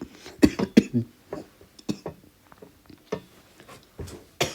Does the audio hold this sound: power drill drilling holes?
no